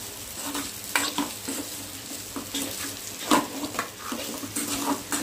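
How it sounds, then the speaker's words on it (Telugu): Pieces of food frying in ghee in a home kitchen, a continuous soft sizzle with irregular stirring scrapes and a few clinks of a utensil against the pan, close and fairly quiet. "మా నెయ్యిలో వేసుకున్న ముక్కలు వేసుకొని ఫ్రై చేసుకోవాలి"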